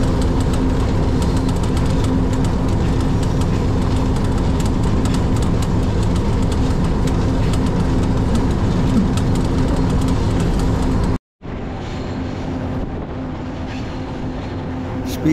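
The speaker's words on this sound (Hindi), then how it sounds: "स्पीड आप ट्रेन की देख सकते हैं, बस यही स्पीड है और इसी स्पीड में हम चल रहे हैं काफ़ी देर से" A Pakistan Railways locomotive runs at steady speed on the line from Haripur Hazara to Havelian, heard from the cab as a loud, continuous rumble and rattle of the track, broken by a brief cut before it resumes.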